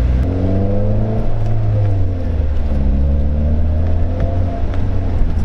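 A 2008 Pontiac Solstice SCCA Champion Edition engine runs steadily while driving, a loud continuous low drone with rising and falling tones as the revs shift, close up and with no talking.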